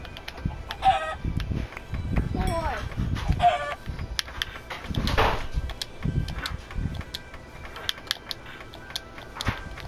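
Several Minecraft chickens cluck and squawk at close range in short irregular bursts, with a rooster-like crow among them over a faint background.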